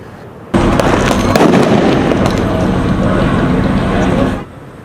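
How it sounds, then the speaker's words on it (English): Fireworks set off by protesters during street clashes with police in downtown Los Angeles, a loud dense crackling barrage that starts abruptly and runs for about four seconds before cutting off. "protesters clashed with police, some setting off fireworks and starting fires"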